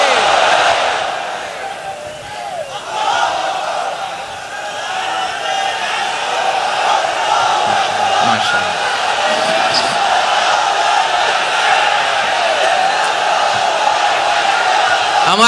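A large gathered crowd at an Islamic sermon gathering chants the takbir together in answer to the preacher, a broad swelling mass of voices that rises and holds, fairly loud and continuous.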